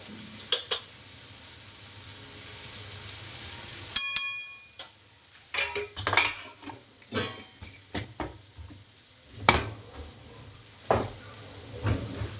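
Green chili and prawn mixture frying in a pan as turmeric goes in, with soft sizzling under scattered metallic clinks and scraping stirs of a spoon against the pan, close and fairly quiet.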